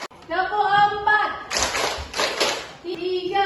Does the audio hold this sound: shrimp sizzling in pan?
no